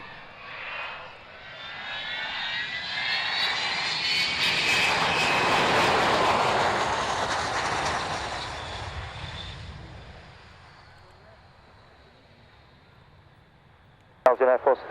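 A large aircraft comes in to land, its engine roar swelling from a faint start to a loud, sustained whine and rumble that peaks midway and slowly fades, ending with a short clatter.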